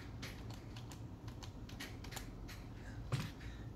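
Keys tapped on a Lenovo G400s laptop keyboard after a repair, a steady run of light, close clicks with one louder stroke near the end.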